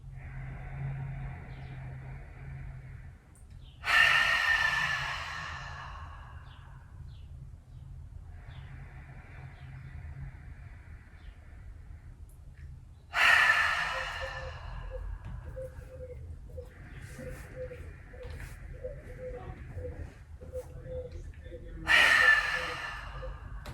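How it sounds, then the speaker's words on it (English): Slow, deep breaths drawn in through the nose and released through the mouth, three audible exhales spaced several seconds apart over quiet background, close and fairly soft. "we'll breathe in through the nose and out through the mouth"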